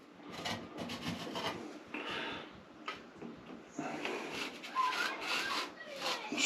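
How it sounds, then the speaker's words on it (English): A big scraper drags across wet plaster being smoothed around a bathroom extractor fan opening, giving repeated rough rasping strokes at close range, loud and uneven, with no talking. "Scrape it all down like that."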